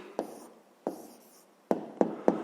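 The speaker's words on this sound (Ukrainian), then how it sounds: "записуємо відповідь" A pen or pencil writes an answer by hand on paper in five short, distinct scratchy strokes, close and quiet, with pauses between the first ones and the last three coming quicker.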